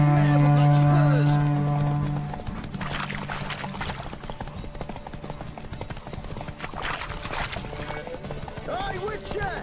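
Roach the horse in The Witcher 3 sets off on a mount-up, with steady clip-clopping hoofbeats over a low sustained tone that fades, loud and close, while voices speak at the start.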